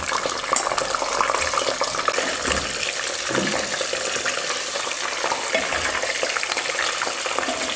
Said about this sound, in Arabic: سخن الزيت ونشربوا الفلفل نتاعنا باش نقليوه